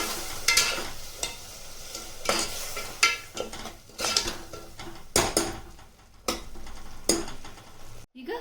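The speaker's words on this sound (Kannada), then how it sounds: "ಇದು ಚೆನ್ನಾಗಿ ಹಸಿ ವಾಸನೆ ಹೋಗೋವರೆಗೂ ಫ್ರೈ ಮಾಡ್ಕೋಬೇಕು." Mint and green chili masala paste fried and stirred in a pan, with repeated scraping stirs and soft sizzling in an irregular rhythm, fairly close and quiet.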